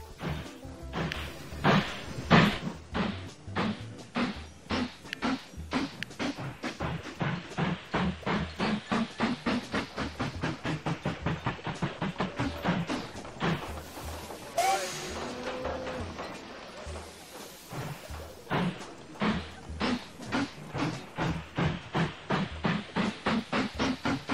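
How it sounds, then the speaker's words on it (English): A steady, rapid chugging of a video game steam train with rhythmic clickety-clack, running continuously and fairly loud, with a brief hiss of steam midway. "Go train, go."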